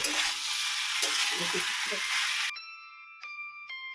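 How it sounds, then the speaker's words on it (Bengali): Potatoes, cauliflower and peas sizzle loudly as they are stirred into spices in a pan for a vegetarian kosha dish, with a steady hiss and a few scraping stirs, then cut off, leaving quiet ringing tones. "মশলাটার সাথে আলু, ফুলকপি, মটরশুঁটি খুব ভালো করে মিশিয়ে নিচ্ছি।"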